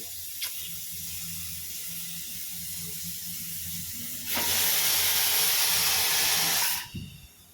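A pressure cooker whistle releases steam in a sudden loud, sustained hiss lasting a few seconds, then cuts off, following a steady quieter background hum, close by and with no voices.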